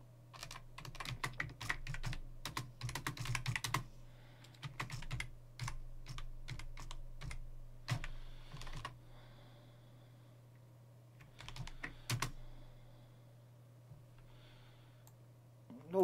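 Fingers type Markdown text on a computer keyboard while working in a Python Django course, with quick bursts of close keystroke clicks and short pauses, no one talking.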